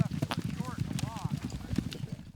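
A herd of horses being brought in and sorted by cowboys on a frosty western Colorado morning, hooves clip-clopping in a busy uneven patter, with whinny-like calls and voices mixed in.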